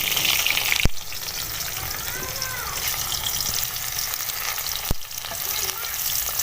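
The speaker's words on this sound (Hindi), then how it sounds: "प्याज को अब हमें हल्के हल्के से हिलाना है और इसको हमने ब्राउन करना है प्याज को।" Chopped onions sizzle steadily in hot oil in a wok, a close, continuous frying hiss broken by a couple of sharp clanks as the onions are stirred.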